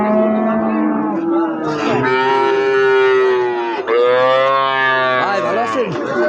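Cattle at a livestock market moo loudly and continuously, several long drawn-out lowing calls overlapping close by, with cows of different breeds and a constant crowd murmur underneath.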